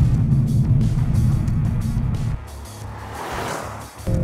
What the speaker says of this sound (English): Third to second, again, immediate, fast, boom, a downshift.